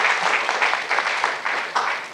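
An audience at the RChain Governance Conference's Saturday session claps steadily in a dense, even wash for a couple of seconds, with a voice faintly audible underneath.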